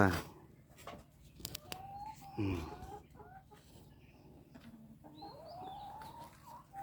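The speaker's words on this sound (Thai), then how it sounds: "นี่คือฟาร์มไก่" About fifteen laying hens on a small egg farm cluck and call intermittently at moderate distance, with a louder squawk early on and quiet background voices.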